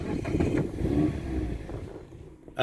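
A Mazda MX-5 with the 1.5 Skyactiv-G engine starts up. The revs rise briefly and then settle back in a short, close engine note that fades toward the end before a sudden noise cuts in.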